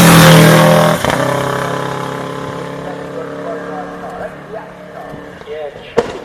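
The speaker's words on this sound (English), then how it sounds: "X-Works, a Pro Drive Subaru from 1986." A 1986 Prodrive Subaru rally car revs hard at a classic hillclimb event. A loud, close engine note begins at full volume and then fades, while voices talk over it.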